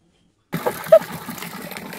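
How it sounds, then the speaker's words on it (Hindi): Water is poured over a person, a short splashing gush with trickling that starts abruptly after a moment of silence, close and fairly loud. "मेरी क्रीम उतार दी पानी डाल के"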